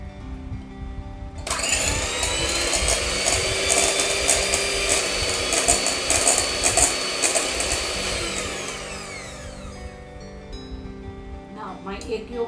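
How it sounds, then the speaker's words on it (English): An electric hand mixer whirs steadily while beating egg yolks for tiramisu, starting abruptly, holding a loud, even motor whine for several seconds and then winding down, with a few clinks at the end. "my egg yolk is being beaten nicely"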